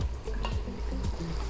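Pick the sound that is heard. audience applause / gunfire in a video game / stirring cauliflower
stirring cauliflower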